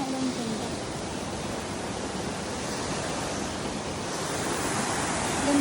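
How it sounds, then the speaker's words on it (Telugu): Water rushes past an old village temple at Hukumpeta in ASR district, a steady, close, hissing flow that stays constant throughout with no voices. "ఇదంతా వాటర్ చూసారా ఎలా వాటర్ వస్తుందో"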